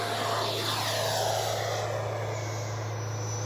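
A Freewing Avanti S 80mm electric ducted-fan RC jet flies past with gear and flaps down, its steady whooshing roar sweeping past at moderate distance, with a constant low hum underneath and no talking.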